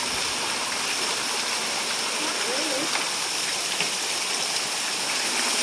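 Heavy rain pours steadily during a storm in Corpus Christi, Texas, a dense, constant hiss close by, with faint voices buried beneath it.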